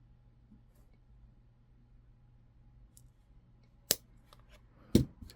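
Beading wire for a labradorite and denim bead necklace snipped with small cutters, two sharp clicks near the end after quiet handling noise, close and alone.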